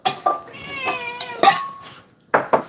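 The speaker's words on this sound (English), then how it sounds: "So I like to use this can as a calling card. If I make that sound, Ringo's probably out there already" A spoon or finger taps a metal cat food can in sharp clinks as a cat meows in drawn-out calls between them, close and fairly loud.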